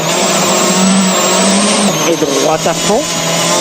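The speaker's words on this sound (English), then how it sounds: "Sebastian Loeb is flat out towards the finish" A WRC rally car at Rally Argentina 2008 driving flat out downhill on a twisty mountain stage in horrendous conditions on hard compound tyres, its loud engine howling steadily, then shifting and revving up and down, with commentary over it.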